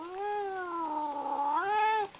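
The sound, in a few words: cat meowing, caterwauling to the camera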